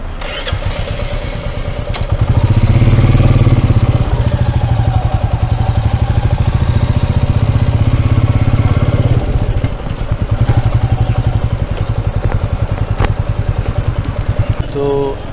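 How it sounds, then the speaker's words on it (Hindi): A Royal Enfield Meteor 350 motorcycle engine runs with a steady low thumping rumble, close and loud throughout, briefly dipping mid-way before settling back into its even beat. "तो अगर आप बाइक रख रहे हैं रॉयल एनफील्ड मीटियोर 350"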